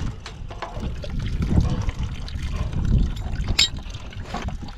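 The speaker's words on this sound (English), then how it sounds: "open the bleeder. We want to see what comes out of it." Fluid gurgles and splashes from an opened bleeder on a 1950s oil well pump jack, an irregular trickling flow in uneven bursts, fairly close and moderately loud.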